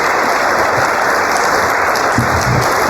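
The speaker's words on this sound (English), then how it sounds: "Can we give them a huge round of applause?" A large audience gives a big round of applause at a 100th birthday celebration for LPO and IVCC, a loud, continuous roar of clapping heard over room hum, with a few low thumps near the end.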